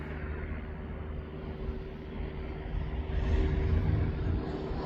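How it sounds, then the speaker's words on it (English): An Antonov An-124, a 48-year-old privately owned freighter, taking off from East Midlands Airport, heard as a steady low jet roar and rumble that swells louder toward the end, with no voices. "It's just took off, and that's a 48-year-old aircraft."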